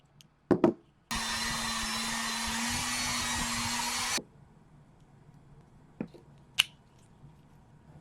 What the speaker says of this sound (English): Now I just need to drill out the center so that it'll rotate a little more smoothly